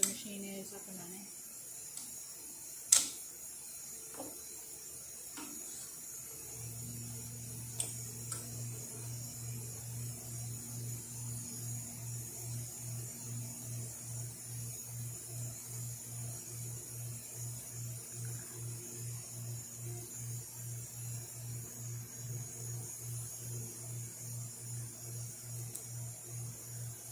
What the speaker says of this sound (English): I'm just going to do a quick test to show you that the machine is up and running